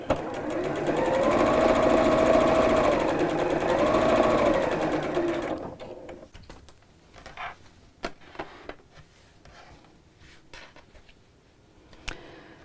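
A sewing machine stitches along a cushion-cover zip seam, a loud close whirring run of about five seconds that slows and stops, followed by quiet clicks and small handling sounds.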